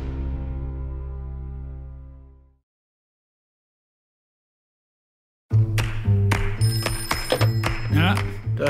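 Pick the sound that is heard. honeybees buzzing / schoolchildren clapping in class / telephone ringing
telephone ringing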